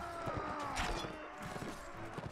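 Horse hooves clip-clop in a Mount & Blade: Warband battle, a quick irregular patter of steps under a busy background of fighting noise, fairly faint overall.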